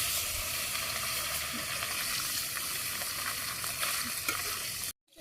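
Fish fry in hot oil seasoned with turmeric over a homemade clay stove in a Bangladeshi village, a steady, loud, close sizzle that runs throughout and cuts off abruptly near the end.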